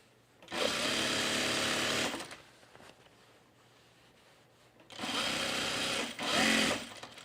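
A sewing machine hems a halter top in two loud close bursts of rapid stitching, separated by a quiet pause, the second burst briefly rising in speed before stopping.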